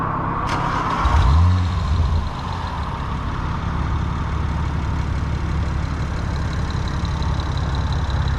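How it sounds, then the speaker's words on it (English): A tuned stage 2 BMW engine idles steadily with a low, even rumble, after a brief blip and swell early on, then holds a constant drone throughout with no talking. "motor sounds good"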